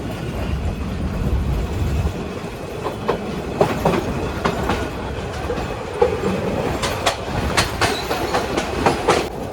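Agnibina Express broad-gauge train rolling along the tracks after leaving a station, a steady rumble with repeated clickety-clack wheel beats and occasional sharp rail squeaks, heard close from on board with no talking.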